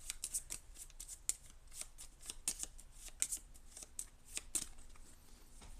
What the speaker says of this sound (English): Randomize the Dark Power cards